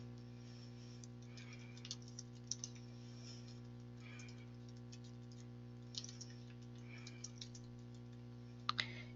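Quiet, irregular keystrokes on a computer keyboard as a search about type 2 diabetes and hemoglobin A1C is entered, small tapping bursts set over a steady electrical hum.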